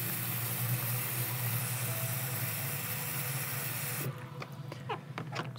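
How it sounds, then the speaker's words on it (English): Steady spray of clean running water rinsing a motorcycle helmet, a continuous hiss that cuts off abruptly partway through, leaving quieter drips and small handling noises close by. "Let's just do without soap and just make sure that that's gonna come out with clean water."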